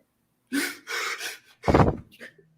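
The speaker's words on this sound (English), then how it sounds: "I got to blow my nose." A short burst of breathy snorting and nasal blowing, close and loud, with a forceful honk near the end.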